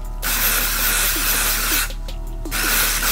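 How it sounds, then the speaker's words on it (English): Steady, close aerosol spraying of a product onto Air Jordan sneakers, one continuous hiss with two brief gaps where the nozzle is released, heard alone. "I sprayed a lot on here"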